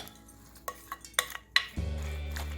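Chopped Korean chives, green Cheongyang chili and red chili being mixed into pancake batter for buchujeon: a handful of sharp utensil clicks and scrapes against a bowl, followed by a steady low hum.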